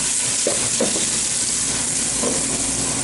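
Minced onion frying in olive oil for polenta, a steady broadband sizzle with a few soft stirring knocks, close and continuous without any talk.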